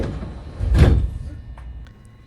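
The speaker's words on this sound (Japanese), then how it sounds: "乗り降りが完了してしばらくしたら扉を閉めます。" Doors of a local commuter train close at Himeji station, a single firm thud and slide near the middle, followed by a few faint clicks against low platform rumble.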